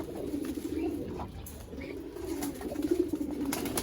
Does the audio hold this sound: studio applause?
no